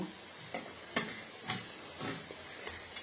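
Chopped tomato sizzling and frying in a pan, with a steady hiss broken by several soft scraping stirs at irregular intervals; close and moderately quiet, no voices.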